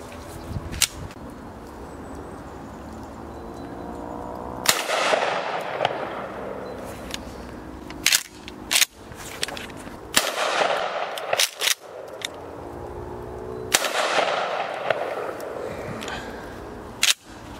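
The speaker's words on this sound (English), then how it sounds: "Let's shoot it some more." Gunshots fired repeatedly, loud and sharp, several spaced blasts each followed by a ringing echo tail, with no voices between them.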